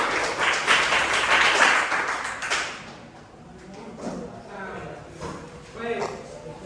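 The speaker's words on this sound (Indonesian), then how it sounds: "Mari kita beri aplaus untuk kelompok lain" A classroom audience applauds a student group after its presentation, a burst of dense clapping that fades after a few seconds into quieter room noise and scattered sounds.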